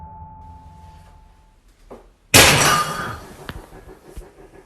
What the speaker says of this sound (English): According to Cardino, the sound was one of her plants falling down.